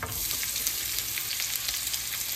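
Chopped garlic frying in oil for a lotus root curry, a steady close sizzle with faint crackles, alone without any talk.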